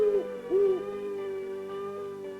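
An owl hoots in a long, tonal, wavering call that slides and then holds steady, fairly close and clear over a quiet night background with no voices.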